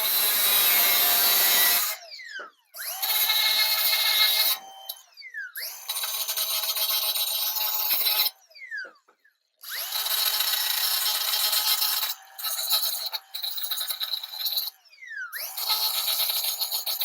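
A cutting disc on a power tool bites into material on a custom build in repeated bursts of harsh, high grinding, separated by short pauses as the tool spins down, with no talk.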